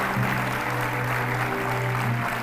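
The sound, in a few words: audience applause for the moderator and the second group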